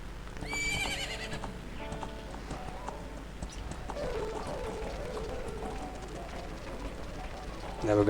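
Epona, the horse in the Nintendo 64 game Zelda Ocarina of Time, gives a short whinny near the start, followed by galloping hoofbeats and game sounds, with a voice talking over them.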